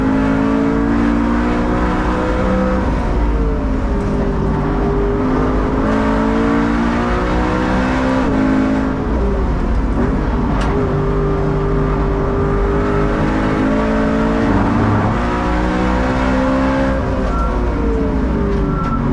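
Wide-bodied BMW E92 M3 lapping the Nürburgring, its engine droning loud and steady from inside the car, pitch rising and falling through gear changes with constant road and wind roar underneath.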